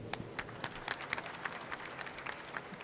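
An audience at a samba school's carnival plot presentation applauds the vice-president with thin, scattered claps, quiet and somewhat distant, with no voices over them.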